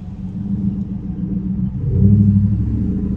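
A car engine rumbles nearby and then revs louder, its deep growl rising as the vehicle pulls away, with no voices over it.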